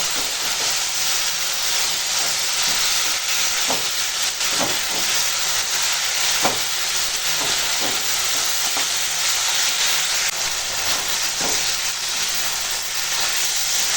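Pumpkin greens sauté with turmeric, salt and spices in a pan, giving a continuous, even steam-like hiss with a few faint stirring clicks throughout.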